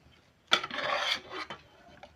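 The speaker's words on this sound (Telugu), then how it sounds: "ఇప్పుడైతే ఈ రైస్ అయితే మొత్తం వేసేస్తుండగా" Raw rice poured into a pot for chicken biryani makes a brief, grainy rasping rush that starts abruptly, holds for under a second, then thins to a scattered patter and fades.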